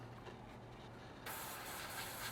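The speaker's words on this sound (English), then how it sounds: "spray this through and get it clean, ready for our next colour" An airbrush sprays cleaner through to flush out paint between colours while building a 1/48 scale Airfix BAe Hawk T1 Red Arrows model, starting as a faint hiss and turning into a steady, louder spray partway through.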